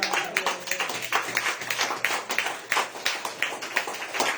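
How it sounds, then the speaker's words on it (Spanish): A church congregation applauds during a Spanish-language sermon, a dense run of hand claps with a loosely regular beat that fills the room at steady volume for several seconds. "Denle aplauso al Señor."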